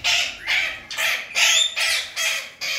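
Parrots squawk and fight in a rapid run of about seven harsh, loud screeches, near and evenly spaced, with no talking over them.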